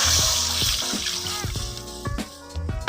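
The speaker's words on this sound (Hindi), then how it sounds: "और ये देखें, हमने इसी कढ़ाई में ये एक मग्गा दूध डाल दिया।" A mug of milk pours into a kadhai, sounding as a close, continuous splashing trickle of liquid with small gurgles, fading slightly toward the end.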